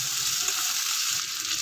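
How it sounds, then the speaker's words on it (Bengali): Peas and mixed vegetables frying in a pan for a vegetarian butter paneer dish produce a dense, steady hiss of sizzling oil, close and even, with no voices. "এগুলো দিয়ে এবার আমি একটুখানি ভাজা ভাজা করে নেব।"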